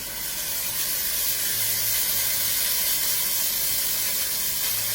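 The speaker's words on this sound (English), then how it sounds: "you can hear that sizzle" Constant bright sizzling and hissing of green curry paste frying in hot olive oil in a pan, close and steady throughout with no voices.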